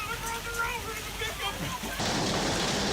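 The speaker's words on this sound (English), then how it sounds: "Large hailstones fall along the Gold Coast" Large hailstones pelting down along the Gold Coast during a storm, a dense hiss of impacts that suddenly intensifies into a heavy roar, with voices talking over the start.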